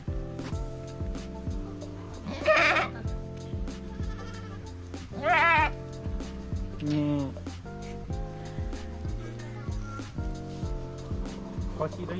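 A goat with upright ears bleats three times in short, wavering cries over steady background music, each call distinct and fairly close.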